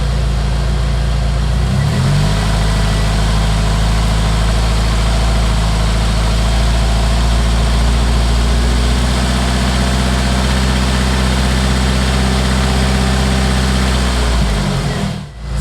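A Jeep engine runs loud and close, idling steadily before its tone rises and holds as the throttle is slowly opened, then drops back near the end.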